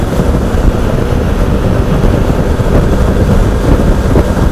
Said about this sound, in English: The wind blowing up there, I'll tell you.